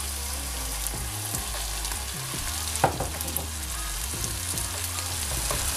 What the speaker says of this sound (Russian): Все перемешиваем и где-то минуток 2 еще тоже прожариваем с булгуром.